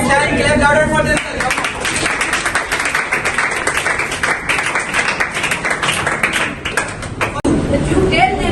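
An audience claps continuously in a dense, sustained patter at a student debate competition, loud and close, with a voice breaking in briefly at the start and end.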